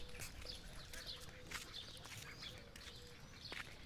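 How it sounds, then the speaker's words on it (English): Ducks quack faintly in the distance in Villajoyosa, Spain, scattered calls over a soft, steady outdoor morning hush. "You hear the ducks in here if you listen carefully."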